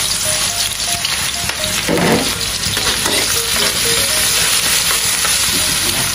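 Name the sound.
garlic frying in a pan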